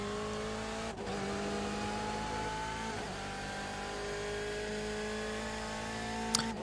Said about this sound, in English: Really attacking those curbs in the BMW there.